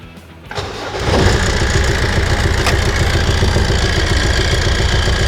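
A Land Rover Series III engine cranks and catches, then settles into a steady, loud, close idle with a rough mechanical rhythm and no talking over it.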